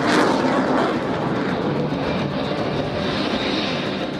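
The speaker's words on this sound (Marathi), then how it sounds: "या शो मध्ये राफेलच्या 3 लढाऊ विमानांनी आपल्या सामर्थ्याचं दर्शन घडवलं" Three Indian Air Force Rafale fighter jets fly past at an air show, a loud, sustained roar of jet engines that fills the air throughout.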